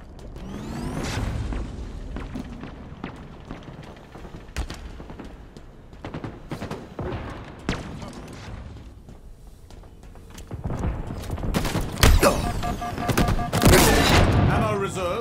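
Gunfire rattles through a Halo Infinite multiplayer match, with bursts of rapid shots and booming blasts over a dense game soundscape that grows louder toward the end, while voices speak over it.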